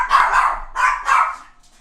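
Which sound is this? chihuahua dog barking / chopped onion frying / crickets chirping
chihuahua dog barking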